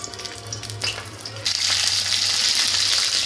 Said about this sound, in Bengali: এই ফুলকপিটাকে ভেজে নেব